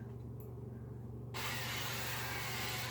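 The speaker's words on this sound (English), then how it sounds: "I'm going to spray my pan," Cooking spray hisses onto a pan while preparing meatloaf, a steady close spray that starts abruptly after a quiet moment and continues to the end.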